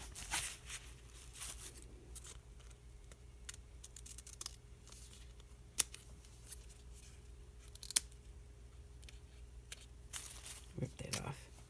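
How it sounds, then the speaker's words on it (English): Scissors snipping paper to trim an address from a journal page, a series of crisp close cuts and rustles under quiet talk. "I just cut the address off the bottom."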